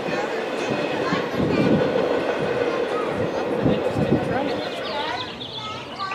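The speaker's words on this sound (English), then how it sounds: "Final boarding call for our Amtrak train number 4, Southwest Sheet. That train is now on the approach." Amtrak train number 4, the Southwest Chief, approaching the station at Fullerton: a steady, heavy rail rumble with rolling wheel noise at moderate distance, and faint birdsong above it.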